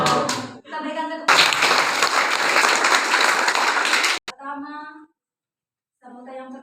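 A burst of applause from a crowd at an elementary school Christmas gathering in Indonesia, dense clapping for about three seconds, bracketed by someone speaking over a loudspeaker before and after.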